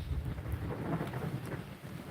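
Outdoor rain on a homestead hisses steadily with low, muffled thunder rumbling underneath, a quiet, distant storm with a few soft drops tapping nearby.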